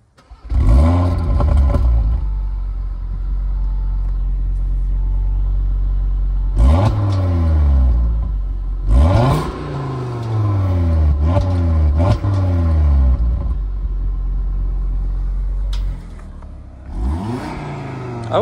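A 2023 Audi RS3 in sport mode starts up loud and close, then revs hard several times with rising and falling sweeps over a steady idle, the engine dominating the whole stretch.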